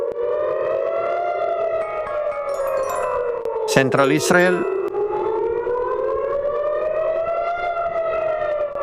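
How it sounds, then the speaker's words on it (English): Air raid sirens in central Israel wail loudly and continuously with a slowly rising and falling pitch, while a voice speaks briefly partway through. "Sirens."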